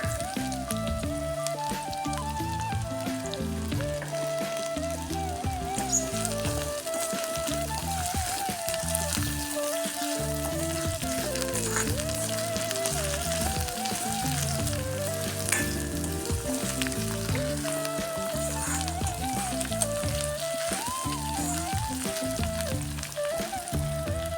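Onions sizzle steadily in an oiled pan for a potato kurma, a dense crackling hiss that runs unbroken throughout, with music playing underneath.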